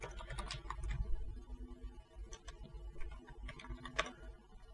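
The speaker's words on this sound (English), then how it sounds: "I'm really terrible at typing" Someone types on a computer keyboard while working in Photoshop. The soft, scattered clicks come in small bursts, fairly faint and close, with no talking.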